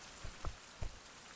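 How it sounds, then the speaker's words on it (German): Rain falls in the survival video game Survival: Fountain of Youth, a steady broadband hiss with a few soft low thumps. It is faint and there is no talking. "Oh, echt dunkel, ne, schon wieder mit dem Regen hier."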